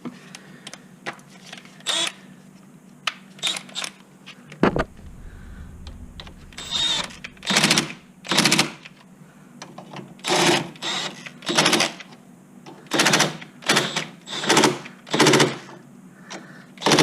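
Cordless impact wrench firing a series of quick short bursts while tightening the front strut on a 2005–2012 third-generation Toyota RAV4, with separate loud rattling hits spaced across the stretch, close by with no talk.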